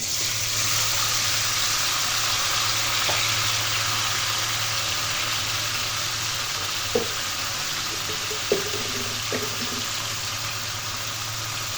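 Rice goes into a pan of hot soybean oil for a sweet-sour chalta pickle, setting off a steady, close sizzle with a few light clinks of stirring. No one talks.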